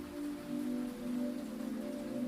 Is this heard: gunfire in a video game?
no